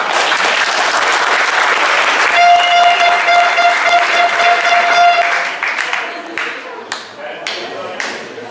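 Audience at a youth football tournament event applauding, loud dense clapping that swells and then thins into scattered claps, with a sustained tone and brief voices underneath.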